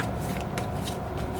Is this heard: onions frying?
no